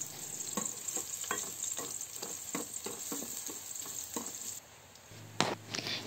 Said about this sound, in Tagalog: Kapag mainit na ang mantika, ilagay na natin ang hiniwang bawang.